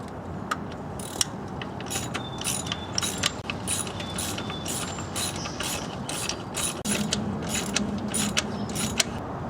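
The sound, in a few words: ratchet tightening drive belt tensioner, Nissan Maxima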